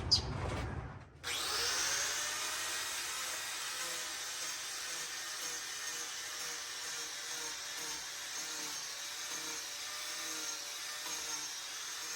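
An electric power carving tool bites into a large wooden mushroom after a brief startup clatter, then runs as a steady, loud, close grinding whine for about ten seconds with no talk.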